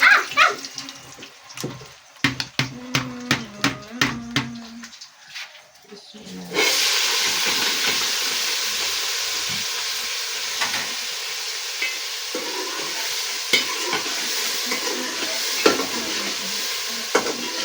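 A few sharp spoon-and-pan clatters come first, then finely chopped carrots hit a hot pan and a steady, close sizzle hisses continuously.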